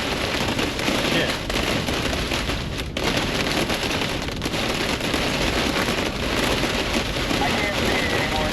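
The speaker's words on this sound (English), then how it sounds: "Hail. We got hail." Hail drums on a car during a storm, a dense, loud, unbroken pelting on the roof and glass with no letup, heard from inside the cabin.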